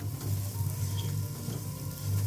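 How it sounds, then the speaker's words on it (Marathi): Semolina and banana roast in a pan with a soft, continuous sizzle and faint stirring scrapes, close and fairly quiet, no voices. "आता परतून झालेला आहे रवा लालसर झालेला आहे"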